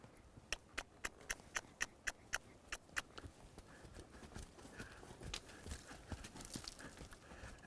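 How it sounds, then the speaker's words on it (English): A horse's hooves clip-clop in an even trotting rhythm, about a dozen distinct beats at moderate distance, fading into softer scuffing and rustle toward the end. "Now the next move is I'm going to ask her to trot in this balanced kind of spot."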